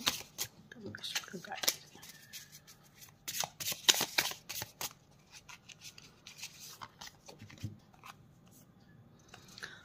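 Tarot cards being shuffled and drawn by hand: bursts of quick riffling, flicking and sliding card sounds in irregular clusters, close and crisp, with someone speaking intermittently between them.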